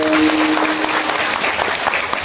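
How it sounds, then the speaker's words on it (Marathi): Audience applause at a kirtan in Pandharpur, a steady, dense burst of many hands clapping together, loud and close, filling the whole moment without talk. "त्या विश्वासांसाठी एकदा टाळ्या वाजवा."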